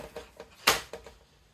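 A Husqvarna 550XP chainsaw's brake handle nub snaps into place, a single loud, sharp click mid-way, surrounded by a few softer taps and knocks from handling the saw nearby.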